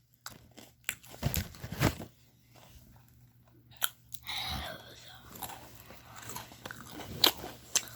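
Crisp, close bites and crunches of a Squid Game dalgona sugar-candy snack come in separate bursts, with chewing between them and quiet speech in places.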